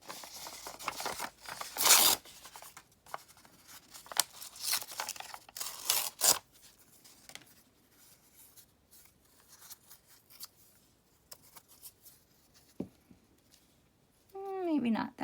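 Scissors snip through old book pages to cut out paper wings, giving a few short crisp cuts and rustles scattered between pauses, with a person talking at times.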